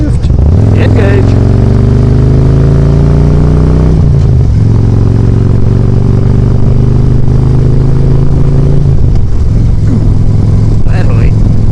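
A Harley-Davidson motorcycle is ridden under a loud, steady engine rumble that drops in pitch at two gear changes as it downshifts and then pulls again, with wind noise throughout and a voice speaking briefly.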